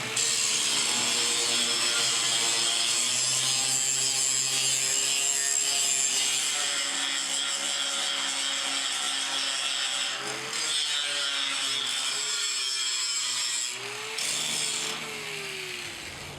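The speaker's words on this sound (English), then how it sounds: "we're going to hit the edge of this lip here with our grinder just to remove some of this paint" A grinder strips paint from the steel lip of a dumpster, a loud, steady abrasive whine and rasp that runs unbroken for the whole stretch, with a few brief dips in pitch and pressure.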